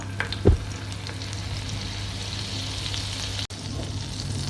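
A teaspoon of butter melts into hot oil in a pan over a medium flame for paneer butter masala, giving a steady, even sizzle with one brief clatter near the start.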